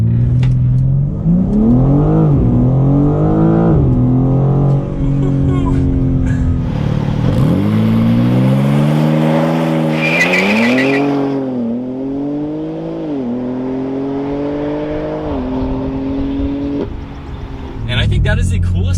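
A 2023 BMW M4 CSL launches under launch control in sport mode with automatic shifting, its engine revving hard and climbing through repeated upshifts, loud and close, with brief dips between gears and no speech.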